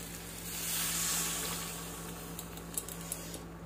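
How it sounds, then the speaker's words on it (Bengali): Fish poured into sizzling cooked masala in a pan gives a broad, steady hiss that swells early, then settles, with a few faint metallic clinks of a utensil near the end. "তখন এই যে মাছটা ঢেলে দিয়ে দেবে এইভাবেই"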